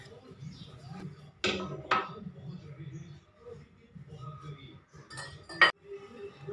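Spice containers knocked and shifted about on a kitchen counter during cleaning, a few sharp close clinks and clatters standing out over quieter rustling, with a voice murmuring faintly in the background.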